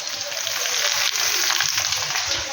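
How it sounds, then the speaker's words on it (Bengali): Tomato drops into a pan of frying potatoes and onion, setting off a steady close sizzle with a bubbling, watery edge and faint stirring underneath, no one speaking. "তো টমেটোটাকে দিয়ে দেবো এর মধ্যে।"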